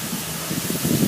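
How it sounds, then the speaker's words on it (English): A fire department hose sprays water onto a burning room, a dense, steady hiss with a slight rise in rushing force toward the end. "the fire department is using much more water to extinguish this room fire"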